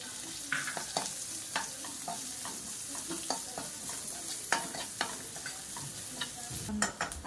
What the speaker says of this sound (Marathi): कढीपत्ता मिरची परतून झाल्याच्या नंतर आता कांदा ऍड करणार आहोत।